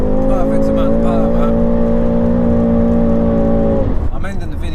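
A turbocharged BMW M5 Competition holds a steady, loud, high engine note under throttle while drifting, then the pitch drops off near the end, with someone talking over it.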